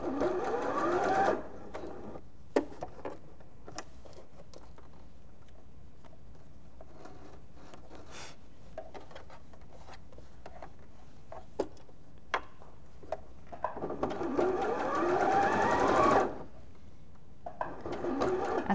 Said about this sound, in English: So that my sewing follows the contours of the shape.